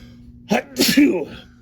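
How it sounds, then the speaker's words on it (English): A single close sneeze, a short sharp intake followed by an explosive burst, then quiet. "I'm gonna sneeze."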